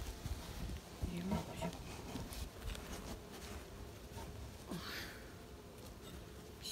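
Honeybees buzz faintly around a beehive, a soft drifting hum with one passing closer, under quiet outdoor ambience with occasional light rustles.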